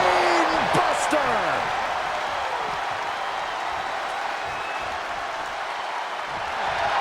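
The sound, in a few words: wrestling arena crowd cheering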